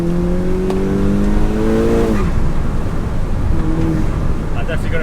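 A 350 bhp GTI with KO4 turbo upgrades accelerating on the road, heard loud from inside: the engine note climbs steadily, drops sharply at a gear change, then pulls up again.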